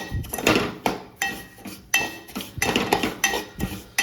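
A spoon scrapes and clanks against a pot while kheer is stirred until brown, with a quick series of close metallic knocks and scrapes in an irregular rhythm.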